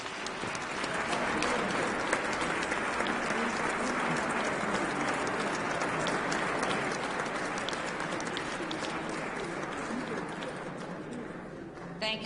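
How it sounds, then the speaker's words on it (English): Sustained applause fills the Rhode Island House of Representatives chamber, a dense, steady wash of clapping from many legislators and guests that holds at an even level for about twelve seconds before tapering at the end. "Please join with me in giving them applause"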